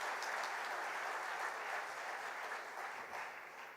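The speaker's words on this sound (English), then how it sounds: "A great round of applause." An audience at a school Founder's Day ceremony claps in sustained, even applause for several seconds, dense and steady with a slight fade toward the end.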